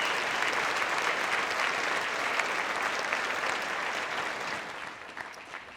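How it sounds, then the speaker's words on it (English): A large audience at a chamber of commerce annual meeting applauds the winners, a dense, steady wash of clapping held for several seconds before thinning slightly at the end. "Let's give them all one more great big round of applause."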